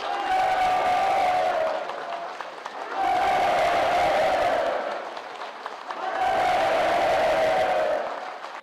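Participants at a housing-permit celebration gathering applaud enthusiastically in sustained waves of crowd clapping that swell and ease roughly every three seconds, with a steady tone running over them.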